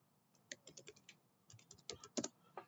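Keys clatter on a computer keyboard while text is typed into a code editor for an HTML page, quick irregular taps in two short bursts, close and fairly quiet with no talking.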